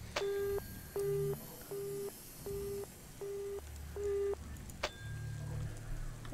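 A phone rings in the video game Kidnapped, six evenly spaced electronic ring pulses at moderate volume, followed by a brief thump and low rumble.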